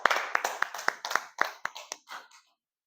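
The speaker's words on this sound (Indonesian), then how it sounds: "Tepuk tangan buat kelompok 3." A classroom of students claps for a student presentation group, a run of about a dozen sharp, fairly close hand claps that thin out and stop after roughly two and a half seconds.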